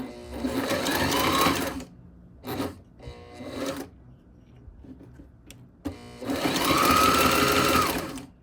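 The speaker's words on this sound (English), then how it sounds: "did some double layer stitching" A heavy duty sewing machine stitching thick tactical nylon double layered: loud, fast mechanical whirring runs in bursts, broken by short pauses and a few brief stitches before a final long run.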